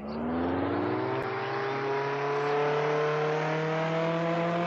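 A car engine in the Roblox Jailbreak video game revs up and holds a loud, smooth, rising whine, steady and close for several seconds with no talk over it.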